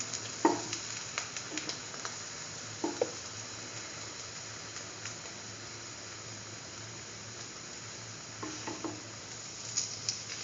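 Mustard chicken and chayote-potato French toast sandwich frying in a pan, a soft, steady sizzle with scattered light pops and stirring taps, close and fairly quiet, no talk.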